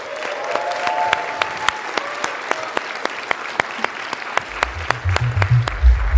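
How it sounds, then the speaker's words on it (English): An audience claps to welcome Edward Snowden on stage at a sovereignty event, with thin scattered claps and sharp individual hand smacks standing out, and a deeper rumbling swell of noise joining toward the end. "please give a big round of applause to Mr."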